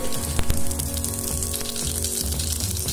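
Mustard seeds are added to about six spoons of hot oil for Andhra dhappalam and sizzle in a steady, dense frying hiss with scattered crackles and pops, close up and without voices.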